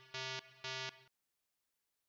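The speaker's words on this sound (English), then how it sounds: "There's also a beep alert that continues until you stop it." Two loud, identical electronic beeps in quick succession, then silence, with a third beep starting at the very end.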